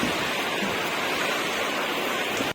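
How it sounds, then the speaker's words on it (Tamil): Heavy rain pours steadily on a lorry carrying metal coils, a dense, even hiss of drops close by that holds without a break until it cuts off abruptly at the very end. "நல்லா ஜோராக தாங்க பெய்யுது."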